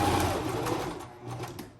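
A sewing machine stitching fabric for a small patriotic flag pillow, a quick close whirring run of needle strokes that slows and softens toward the end.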